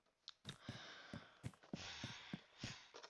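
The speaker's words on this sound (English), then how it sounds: "Me breathing in with my mouth" Repeated mouth breaths picked up by a sensitive Logitech H600 headset mic, sharp airy inhales roughly every half second to second, close and fairly loud, with no speech.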